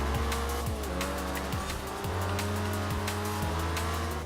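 Reliant Supervan in Forza Horizon 4, its engine droning and revving loudly through repeated gear changes while the tires squeal and skid, a continuous close roar with rising and falling pitch.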